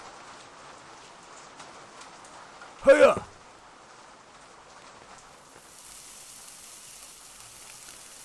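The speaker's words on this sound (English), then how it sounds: "It's always raining around here. Never not raining." Steady rain in a food-simulation horror video game patters softly in the background as a voice briefly calls out a greeting, then the rainfall continues alone.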